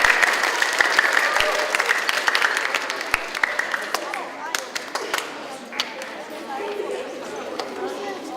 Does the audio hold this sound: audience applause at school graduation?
yes